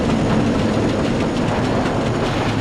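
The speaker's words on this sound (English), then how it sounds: "That train's gonna hit us, oh no!" A train in Roller Coaster Tycoon 3 rumbles loudly and continuously, its wheels clattering with a dense, steady roar and no voices.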